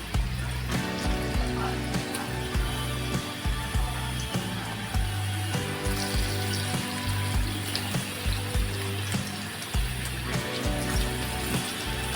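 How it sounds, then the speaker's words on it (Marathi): Small corn bhajis sizzle in hot oil in a Maharashtrian kitchen, a continuous hiss and crackle with irregular low thumps and bubbling bursts, close and steady, no talking. "आपण इथे तेल गरम करत ठेवलेलं आता आपण छोटी छोटी अशी भजी सोडून घेणार आहोत"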